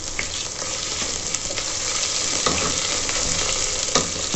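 Onions fry in a pan toward light brown for a cluster bean curry, giving a steady moderate sizzle with occasional stirring clicks and scrapes, with no talking.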